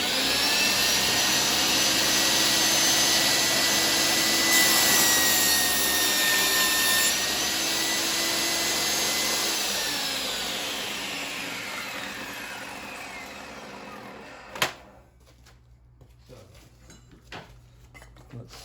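Kobalt 10-inch worksite table saw ripping a 2-inch strip, its loud motor whine steady under the blade's cutting noise for most of the run, then spinning down with a few clunks as it stops.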